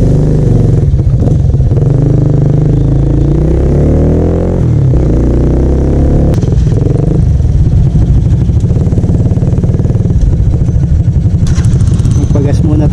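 A Rusi Korak 110 scrambler motorcycle rides a dirt trail, its small engine putting loudly and shifting pitch as it accelerates, with speech heard over the engine noise.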